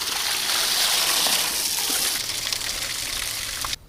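Fresh water gushes and splashes steadily into a container for ducks, loud and close, easing slightly before cutting off abruptly at the end.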